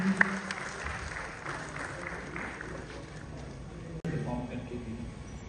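An audience applauds at a state award ceremony on World Teachers' Day, honouring a headmaster, with steady clapping through a hall, a brief break, then renewed clapping while a voice speaks over it.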